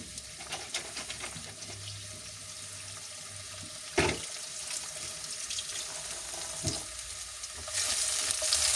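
Shallots, garlic and spring onion frying in a wok for a stir-fried broccoli and carrot dish, a steady sizzle broken by scraping stirs, a sharp clatter near the middle and a louder hiss at the end.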